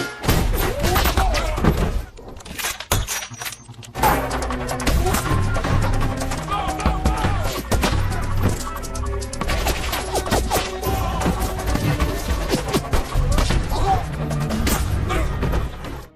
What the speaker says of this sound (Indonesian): Miller melepaskan tembakan jitu yang menghabisi mereka semua